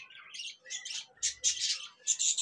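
Cockatiels in a farm aviary cage give a run of sharp chirps and squawks, several calls in quick succession, close and clear, with no voices over them.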